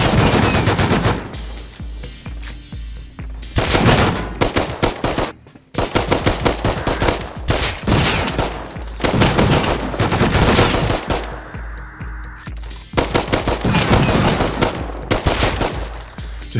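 Bursts of machine-gun fire in the survival game Rust, loud and close, arriving in long sustained volleys broken by short pauses.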